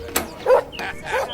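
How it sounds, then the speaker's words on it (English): A neighbours' dog barks in a few short yaps and bow-wows from a garden next door, fairly close and moderately loud, with soft household background. "Why's their dog barking?"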